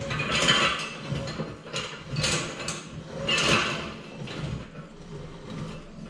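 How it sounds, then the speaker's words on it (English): Bearings of a John Deere 25A flail mower grind and rumble as the heavy mechanism is turned slowly by hand, with repeated scraping, clicking surges rising and falling in a loose rhythm. "Can't necessarily say that the bearings sound brand new"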